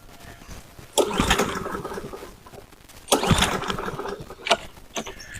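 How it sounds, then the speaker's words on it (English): A Cub Cadet SC500Z lawn mower engine that runs and stops cranks in two strained surges with a brief catch after them, close by, then dies away. "let me see if it'll try to crank up"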